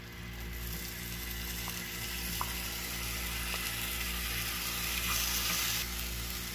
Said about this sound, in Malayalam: ആപ്പിൾ ഷുഗറിൽ വേവിച്ചെടുക്കുക.